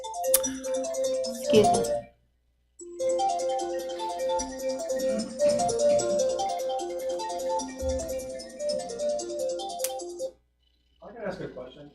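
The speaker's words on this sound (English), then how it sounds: "Somebody's phone is going off" A mobile phone's melodic ringtone sounds loudly during a county planning commission meeting, playing a repeating tune in two long bursts separated by a brief gap, with a person speaking briefly and rustling noises nearby.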